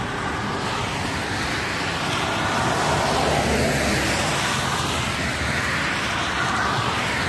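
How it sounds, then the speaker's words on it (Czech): Buses rolling past on a Czech motorway, two in close succession, a steady broadband roar of tyres and engines with wind-like rush that swells slightly midway and stays loud throughout, no voices. "A jede další autobus."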